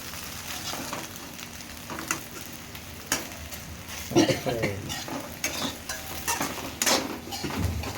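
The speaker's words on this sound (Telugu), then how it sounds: "ఇట్లా మంచి ఫ్రై అవుతుంది" Egg fried rice frying in a pan and being stirred, made fast-food style, with steady sizzle and repeated scrapes and clinks of a utensil against the pan, close and fairly loud, with no speech.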